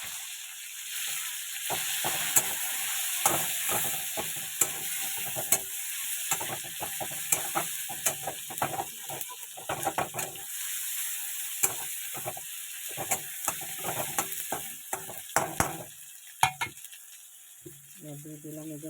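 Katla fish fries in a pan with cumin, producing a constant loud hissing sizzle, broken by frequent sharp clicks and scrapes of stirring and a few brief pops throughout.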